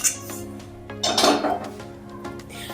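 A metal kadai is set down on a gas stove while sabudana khichdi is being cooked, giving a few clanking, clinking knocks, with one louder rattling clatter in the middle, close by.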